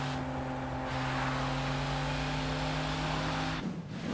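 A car engine drones steadily and fairly loud during a chase in Sleeping Dogs, with a constant hum that drops away abruptly near the end.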